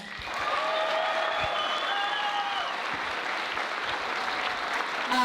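A round of applause from the audience at a pageant contest gala rolls on for about five seconds, a steady wash of many hands clapping at moderate distance, with a sustained tone running beneath it.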